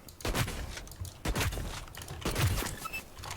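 Shotgun blasts in the video game Hyper Scape: three or four sharp booming shots spaced about a second apart, loud and close, with gunfire-like echoes.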